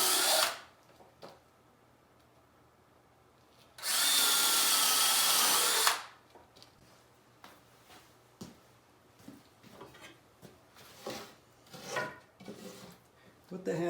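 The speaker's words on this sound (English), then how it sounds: "Have students drill the holes with a cordless drill" A cordless drill whirs loudly for about two seconds while drilling holes in wood, with quieter clicks, knocks and handling noises before and after.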